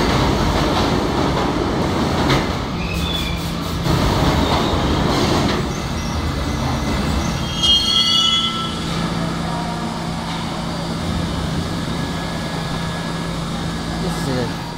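An NYC subway G train bound for 18th Avenue rolls along steadily in the Trainz 2019 simulation, with a continuous loud rumble, rail noise and brief wheel squeals.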